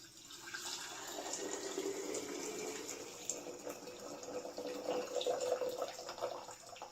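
Liquid pours steadily into a jar during potato canning, a soft continuous splashing trickle with slight surges, fairly quiet and close, with no talking.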